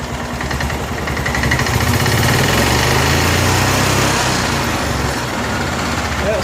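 A 1988 Club Car golf cart's small gas engine, with new carburetor and fuel pump, revs up and holds a high, buzzy drone, rising and then easing back slightly, close and loud throughout.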